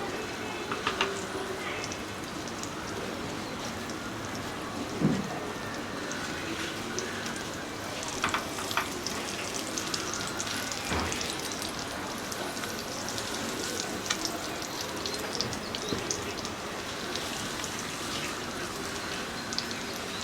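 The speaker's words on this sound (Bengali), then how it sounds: "বেগুনগুলো প্রায় ভাজা ভাজা হয়ে গেছে" Eggplant pieces fry in oil in a pan for doi begun, a quiet, continuous hissing sizzle with scattered small pops and a few light clinks throughout.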